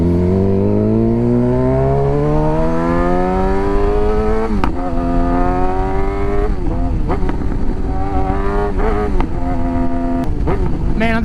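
A Suzuki GSX-R600 engine with its exhaust valve removed winds up steadily, its pitch climbing through the gear, then shifts and keeps pulling with sharp pops, loud and close under wind.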